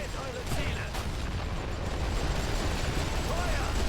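Mortar and artillery fire in The Great War: Western Front: a continuous, dense rumble of distant booms and bursts with no clear separate blasts, steady and heavy throughout, with a voice talking over it.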